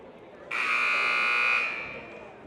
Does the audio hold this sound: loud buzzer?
yes